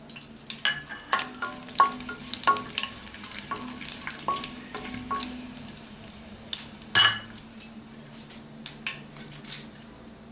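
Cinnamon and whole spices fry in hot oil, a busy crackle and sizzle broken by repeated clinks and scrapes of a spoon stirring the pan.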